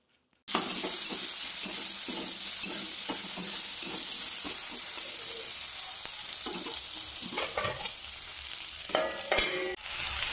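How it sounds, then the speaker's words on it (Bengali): Grated ginger, garlic and chopped tomatoes fry in a pan with a loud, steady sizzle and repeated stirring scrapes, starting abruptly after a brief silence. "এটা একটু ভাজা ভাজা করে নেব।"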